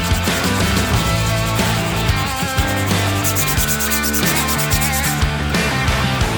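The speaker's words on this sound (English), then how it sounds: "I sanded away any squeeze out with 120 grit sandpaper" Steady, continuous scratchy rubbing of 120 grit sandpaper on a resin-coated prop dagger, close and fairly loud, with back-and-forth strokes throughout.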